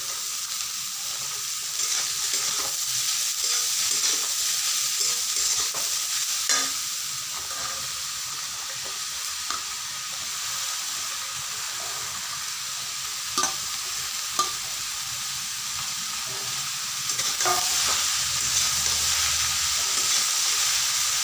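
Chopped bottle gourd fries in a pan, with a continuous sizzle and repeated scraping stirs of a spatula spaced a few seconds apart. The sound stays close and steady, with no voices.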